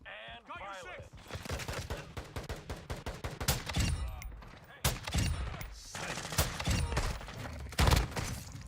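Gunfire in MW3 Zombies bursts repeatedly in sharp, loud blasts, some clustered and some spaced, over a busy game soundscape with a voice briefly talking underneath.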